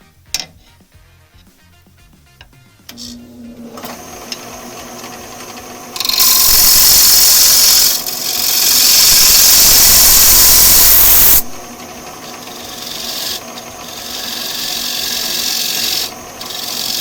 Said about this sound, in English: So I'm using a negative rake scraper.